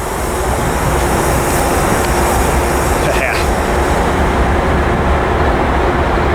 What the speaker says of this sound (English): This freight has a green signal